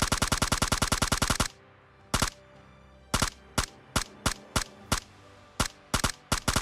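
PUBG Lite gunfire, a fast loud burst of automatic rifle shots followed by a pause and then a series of single and paired shots at an irregular rhythm.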